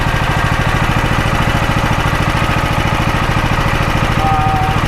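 A DuroMax XP13000EH generator idles with no load, its engine running at a steady, loud, low throbbing drone that continues unbroken and close by, with no talking.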